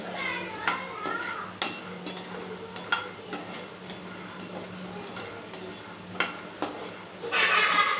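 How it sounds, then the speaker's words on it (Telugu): Peanuts roast in a dry pan, sending out irregular clinks, rattles and scrapes of a utensil stirring against metal, with a burst of louder rattling at the end and children's voices in the background. "శనక్కాయ విత్తనాలు కూడా మాడిపోకుండా వేయించుకోండి"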